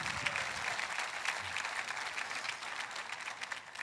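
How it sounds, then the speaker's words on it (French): A church congregation applauds during a sermon, a steady, fairly distant wash of clapping that holds evenly throughout. "Applaudissez la révélation que Dieu va vous donner"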